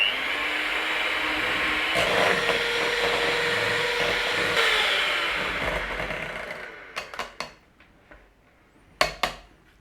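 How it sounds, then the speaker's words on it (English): An electric mixer whips cream with a little powdered sugar in a bowl for a banana trifle, a steady loud whirring for about seven seconds that then gives way to a few sharp clinks and taps of beaters against the bowl. "we're just going to whiz that up with the mixer"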